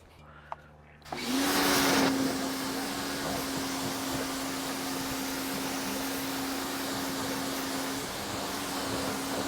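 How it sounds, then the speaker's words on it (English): A blower switches on after a brief quiet moment and runs at a loud, steady roar with a constant whine while drying a rinsed car engine bay. No one speaks. "I'm going to use my blower."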